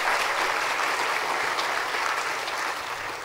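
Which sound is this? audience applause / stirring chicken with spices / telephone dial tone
audience applause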